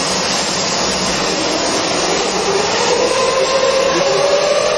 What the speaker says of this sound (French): On est sur une machine qui est lancée à 90 mètres secondes.